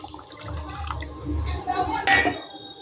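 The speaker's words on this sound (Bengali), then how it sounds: "এবার আমি জল দিয়ে দেব জলটা আমি দিয়ে দিলাম" Water pours into a hot pan of fried spice paste for a vegetarian pumpkin-seed dish, a close sizzling, bubbling rush that swells, then a short splash near the end.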